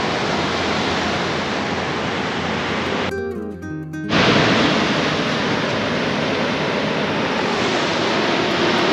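Heavy ocean surf pounds a remote beach in a dense, roaring wash that fills the air. It is loud and continuous, with a brief dip partway through before the full roar returns.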